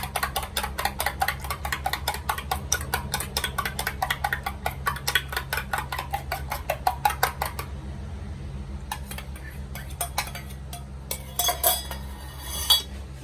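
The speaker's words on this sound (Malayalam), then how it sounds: "രണ്ട് മുട്ടയും കൂടെ അടിച്ച് ചേർക്കാം" Eggs beaten into achappam batter with a utensil against a bowl, a rapid steady run of close clinking strokes for about eight seconds, then a few scattered taps and scrapes over a constant low background hum.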